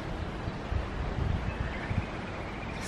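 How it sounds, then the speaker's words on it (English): Strong wind buffets the microphone in a steady, rough roar with low gusty thumps, no voices present. "It's really, really windy at the moment."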